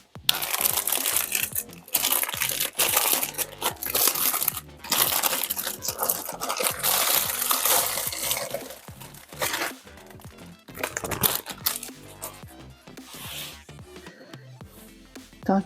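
A box cutter slices open the packaging of a set of Ohuhu markers, producing continuous crinkling, tearing and crunching of plastic and cardboard that is loud and close, then tapers into softer rustling.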